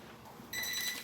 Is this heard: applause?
no